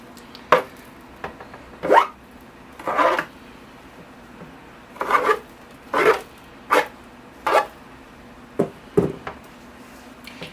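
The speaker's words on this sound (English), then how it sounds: "So I'll just comb everything out so it's nice and radial." Roots of a mulberry bonsai being combed out during repotting, a series of about a dozen short scratchy rasping strokes in uneven bursts, close and clear with no talk.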